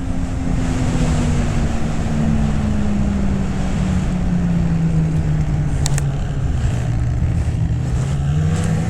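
A Polaris Matryx VR1 850 snowmobile riding over bumps, its engine holding a loud, steady drone that slowly sags in pitch, wrapped in constant rushing wind noise, with no talk.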